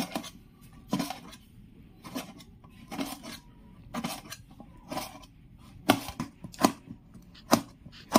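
A knife chops red tomato finely on a board in a series of crisp, fairly regular knocks, roughly one per second, close and clear, with no voices.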